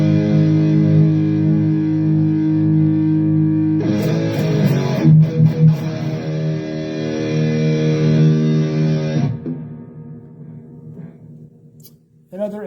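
Distorted electric guitar played through a Donner Arena 2000 multi-effects pedal with its noise gate on: sustained chords ring loudly, then stop, and the gate cuts the noise to near silence between notes.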